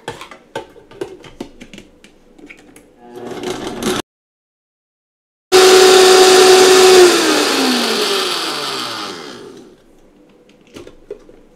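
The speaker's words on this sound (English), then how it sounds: "Turn on the blender." A blender switches on with a loud whirring roar, its motor pitch gliding downward as it runs for several seconds, then cuts off.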